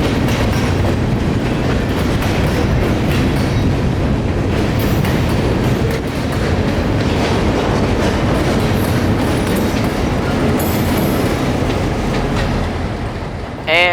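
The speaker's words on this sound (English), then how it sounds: "And not too long afterward came Amtrak 91, powering out of Lakeland Station." Amtrak train 91 rumbles past loudly and continuously, powering out of Lakeland Station, Florida, wheels clattering on the rails, with a brief high squeal near the end.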